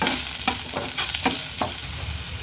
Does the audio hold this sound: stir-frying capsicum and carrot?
yes